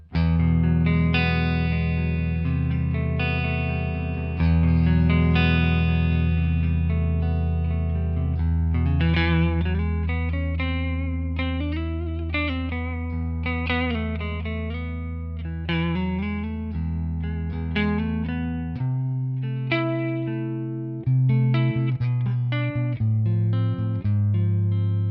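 A clean electric guitar tone through a ToneX ONE amp capture with reverb plays alone: sustained chords, then a run of ringing melodic single notes that trail off into lingering reverb.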